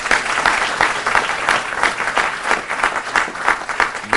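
An audience at a New York City community gathering claps for a few seconds in dense, steady applause that stays fairly loud throughout.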